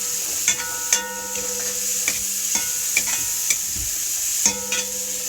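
Pre-cooked shrimps sizzle steadily in a pan with bitter gourd curry seasoning, a constant hiss broken by several sharp utensil taps and stirring scrapes, no voices.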